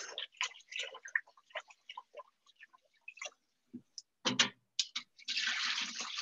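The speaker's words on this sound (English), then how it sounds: "Give it a good rinse." Jasmine rice is rinsed in water with faint scattered grain clicks and small splashes, then a short burst of running water at the end. The sounds are quiet and close.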